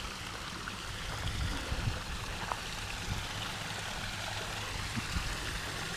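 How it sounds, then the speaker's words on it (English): A small waterfall in a park in Quartzsite, Arizona, gives a steady, even rush of falling water, moderately close and continuous with no voices. "nice little waterfall."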